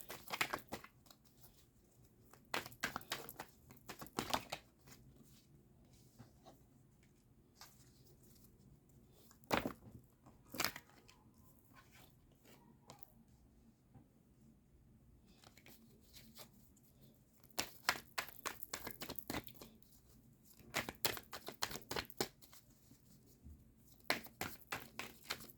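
Tarot cards being pulled and handled, with scattered bursts of crisp shuffling, rustling and flicking in uneven clusters, close and fairly quiet, separated by stretches of near silence.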